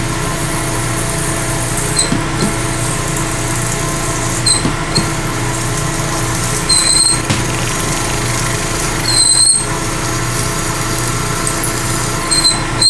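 A lathe turns steadily while a body drill bores into the workpiece during the machining of soft jaws, a loud continuous mechanical whir with a faint recurring high squeal and no talk.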